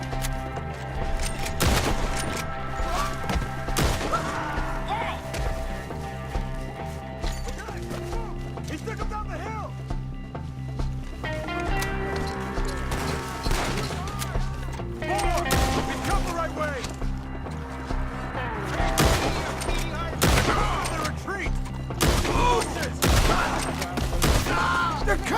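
A chaotic shootout in Red Dead Redemption 2, with repeated sharp gunshots and rapid volleys cracking out at irregular intervals over steady music and shouting voices throughout.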